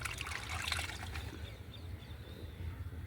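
Fruit juice trickles and pours onto a pomegranate plant in a home garden, a faint, continuous liquid splashing and dribbling with no voices.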